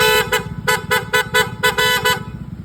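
Aftermarket PIA horn on a motorcycle honks in a quick series of sharp, loud, close toots, several short blasts with brief gaps over an idling engine.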